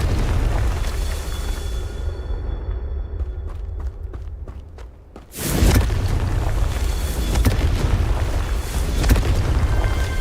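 Confringo blast spells explode in the Hogwarts Legacy video game: a sudden loud, deep boom bursts in halfway through and gives way to a sustained roaring rumble, after a stretch of quieter clicks and thuds.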